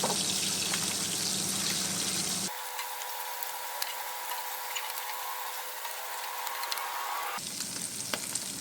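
Shrimp frying in hot oil in a heated wok, a steady close sizzle that runs throughout, dropping a little in body midway before returning at full strength.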